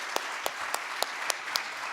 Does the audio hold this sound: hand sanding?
no